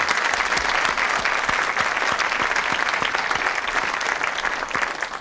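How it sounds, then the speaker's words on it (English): A studio audience at a 1970s television panel game show breaks into steady, dense applause, many hands clapping close and loud, sustained without pause for several seconds. "so let's have a ripple of applause for the suspects"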